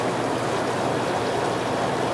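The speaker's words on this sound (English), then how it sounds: "Got the bubbles going in the hot tub" Bubbles churning in a portable jacuzzi hot tub, a steady broadband fizz and rush of aerated water heard up close without a break.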